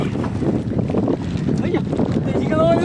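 Strong wind buffets a small wooden boat on a choppy sea, producing a steady loud roar with water sloshing beneath and a brief voice in the background.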